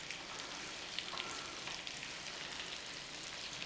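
Pork tenderloin sears in a crowded pan, a faint, steady sizzling hiss with occasional small pops and crackles, heard alone without talk.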